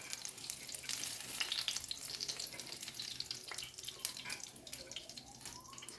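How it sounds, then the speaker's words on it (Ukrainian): Chicken cutlets fry in oil in a pan, a faint, steady crackle and sizzle with scattered pops and some dripping water sounds in the kitchen. "Відкриваємо кришечку і смажимо з другої сторони."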